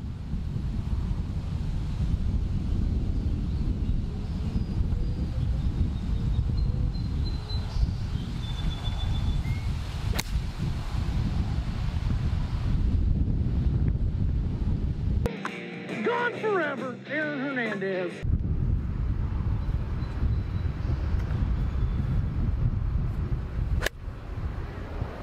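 Strong gusting wind buffets the microphone on a golf course at Carmel Valley Ranch, a steady roaring rush throughout the stretch, briefly cutting out midway, with faint talk in the background.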